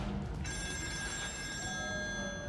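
In the video game Still Wakes the Deep, an old-style telephone bell rings loudly and steadily, starting abruptly after a brief pause and continuing without a break to the end.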